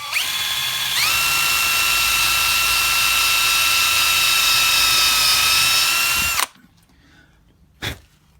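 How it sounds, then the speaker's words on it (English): A power drill with a 1/8 inch bit boring through wood strips whines loudly and steadily for about six seconds, pitch dipping slightly as it bites, then stops abruptly; a brief knock follows. "So I'm using a 1/8 drill bit, and we'll drill as straight as we can"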